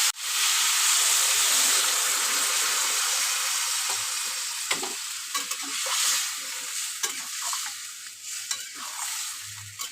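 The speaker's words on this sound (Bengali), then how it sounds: "এবার আমি জল দিয়ে দেবো" Water hits a hot pan of frying sweet pumpkin and crab, setting off a loud, steady sizzle and hiss of steam that slowly settles, with occasional stirring clinks near the end.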